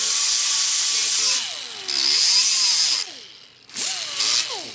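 A DeWalt cordless drill whirs in several bursts, its motor pitch rising and falling as it bites, then stops and restarts.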